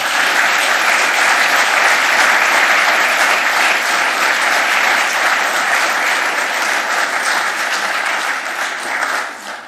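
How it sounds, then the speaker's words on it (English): Lecture audience in a hall breaking into hearty applause after a talk on mechanised tunnelling, a loud, dense, steady clapping that holds for nearly ten seconds before thinning slightly at the end. "one more hearty cheer for a fantastic Harding lecture"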